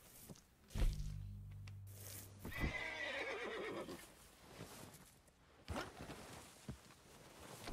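A horse in the video game Red Dead Redemption 2 gives a loud, close whinny with a rising-falling harmonic call early on, followed by softer hoof shuffles and movement noises.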